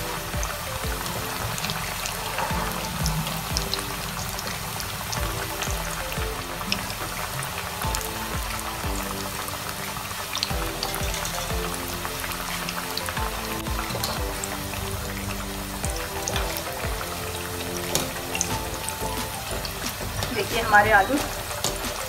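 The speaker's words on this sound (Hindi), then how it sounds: "आलू ये अच्छी तरह से फ्राई हो रहे हैं और ये क्रिस्पी भी नज़र आ रहे हैं।" Potatoes frying in oil for dum aloo, a steady low crackle and sizzle running throughout under a voice talking in Hindi.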